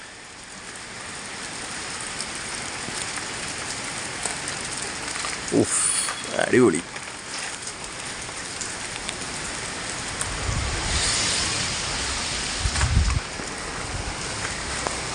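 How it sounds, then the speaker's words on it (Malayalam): Steady rain falls around a home at the start of the monsoon season, a dense even patter throughout, with a brief spoken word partway through and a heavier burst of drops near the end. "അങ്ങനെ ഇന്ന് ഫുള്ള് മഴയായി"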